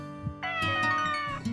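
A Maine Coon cat meows once, loud and close, a long drawn-out cry with a short chirp at the start and a brief trailing sound at the end.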